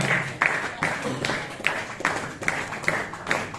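Audience clapping at a pastors' and leaders' retreat in Shillong, a crowd of hands beating in a steady, fairly even rhythm with regular accents, moderately loud and continuous throughout.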